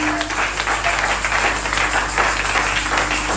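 A church congregation claps loudly together in a sustained hand-clap offering, a dense, even roar of many hands with no break.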